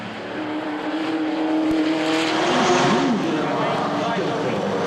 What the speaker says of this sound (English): Here's our camera car.